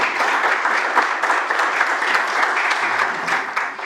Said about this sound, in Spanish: Le vamos a dar un aplauso, por favor, a Ángelo Caputillo.